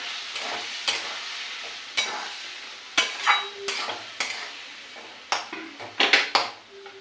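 Spice paste for chana masala fries and is stirred in a pan with a splash of water, a steady sizzle broken by repeated scraping strokes of the spoon against the pot, close and moderately loud, no talking.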